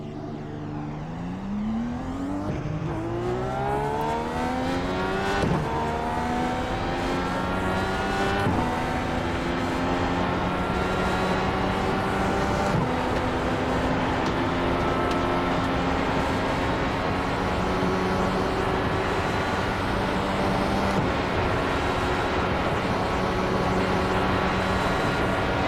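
Dallara IR-18 IndyCar engine in the iRacing sim, a loud steady high-revving whine climbing through gear after gear, each upshift dropping the pitch before it rises again, sustained without pause.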